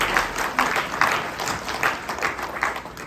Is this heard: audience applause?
yes